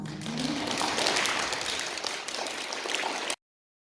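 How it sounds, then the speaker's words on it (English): Round of applause from an audience for participants at the SCA Speech Meet 2021, a dense, even patter of many hands clapping steadily before cutting off abruptly. "Can you just give them a round of applause?"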